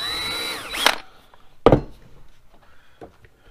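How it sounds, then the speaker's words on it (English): A power drill whirs briefly while pre-drilling a hole in wood, followed by a sharp knock and a few faint clatters, close by with no talking. "pre-drill two holes"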